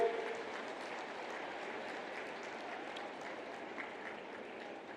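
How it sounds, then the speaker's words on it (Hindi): An audience applauds at the inauguration of a new state assembly building, giving faint, steady, distant clapping that continues evenly for several seconds. "ताली बजा के।"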